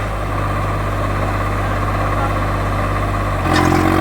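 Tractor engine held at 2000 rpm under load during a tillage comparison between a John Deere 5310 and a Swaraj 855, a loud, steady, close diesel drone that deepens and shifts near the end, with no talk.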